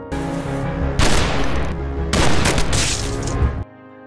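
Rapid bursts of gunfire tear through an action-film shootout against mafia henchmen, two dense volleys of loud cracking shots separated by a short lull, ending in abrupt quiet with no talk.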